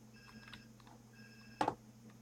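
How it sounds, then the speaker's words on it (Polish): A phone rings in the video game GTA San Andreas: faint, repeated electronic ringing tones sound in short pulses, with a brief louder burst near the end. "Telefon dzwoni."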